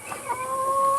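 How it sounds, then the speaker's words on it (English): A Barred Rock chicken, fighting with a rooster, gives a short, close cluck that stretches into a drawn-out, wavering call, alone against faint background noise. "one of our barred rocks, and our rooster seem to be fighting"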